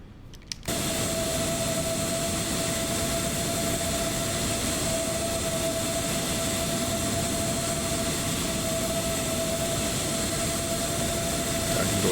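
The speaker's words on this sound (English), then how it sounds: "I'm going to go ahead and just roll a little forward here." Airliner jet engines idle and taxi in a VATSIM flight simulator at Düsseldorf: a steady broadband roar with a constant whine holds evenly for the whole stretch after a brief quieter opening, with no talk over it.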